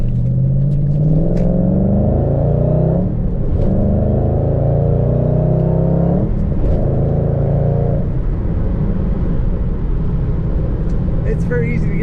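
A 2011 Ford Mustang Shelby GT500 convertible engine rumbles loud and close with the top up, its deep idle swelling in a few revs and dips, with a voice briefly heard over it.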